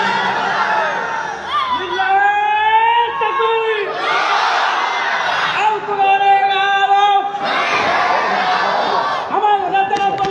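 Crowd at a Bengali Islamic religious gathering shouting takbir in unison: a large mass of voices answers a leader's chant in repeated surging waves, loud and close, with sustained group cries rising and falling.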